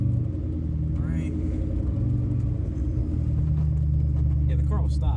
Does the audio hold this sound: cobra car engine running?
yes